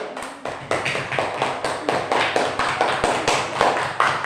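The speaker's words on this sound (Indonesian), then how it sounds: "beri tepuk tangan untuk kelompok 2" A primary school class claps for a group after its presentation, a steady run of rhythmic unison claps, close and fairly loud, continuing for several seconds with no talk.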